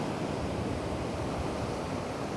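Sea water surges in fast over the shore, giving an even, wide rushing wash that holds steady throughout with no voices.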